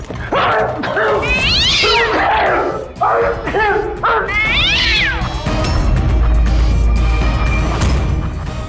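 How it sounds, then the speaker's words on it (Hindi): A cat meows repeatedly at close range, several drawn-out, rising and falling cries in quick succession, followed by a loud rumbling background. "उस रात तुम्हारे साथ यहाँ ये बिल्ली भी मौजूद थी।"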